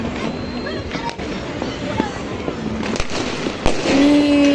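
Fireworks bursting over a Dhaka neighbourhood on New Year's night, scattered distant pops and crackles over a busy outdoor background with faint crowd noise.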